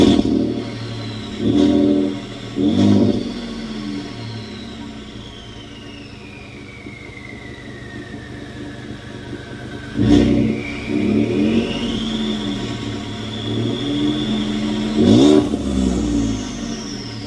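A car engine, fitted with an exhaust tip, starts up and revs in sharp bursts with a deep exhaust note, settling into a lower idle between throttle blips.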